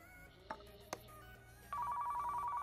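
Telephone ringing in the video game Car Mechanic Simulator 2015, a steady electronic ring starting partway through after a couple of faint clicks, fairly quiet over a low background hum.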